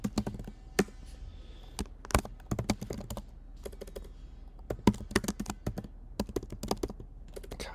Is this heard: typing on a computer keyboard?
yes